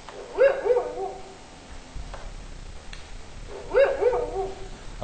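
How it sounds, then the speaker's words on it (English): A dingo in a wildlife park exhibit gives two loud bark-howls a few seconds apart, each a rough, wavering cry with a quieter gap of ticking and background noise between them. "A bark howl warns of danger to other pack members."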